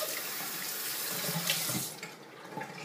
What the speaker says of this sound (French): Le bol, on rince le bol